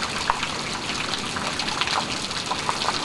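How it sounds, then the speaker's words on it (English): Water splashes and gushes steadily as a child plays in a rain puddle outdoors, a continuous wet sloshing with brief louder spatters, close by and without talk. "You splash in the puddle?"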